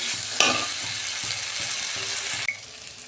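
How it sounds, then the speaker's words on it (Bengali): Kohlrabi and potato being sautéed in spiced oil, with a steady loud sizzle and repeated scraping stirs of a utensil in the pan, alone without talk. "আমি সবজিগুলো দিয়ে দিচ্ছি। সবজি মানে ওলকপি আর আলু। আমি আর 2 মিনিট কষাবো।"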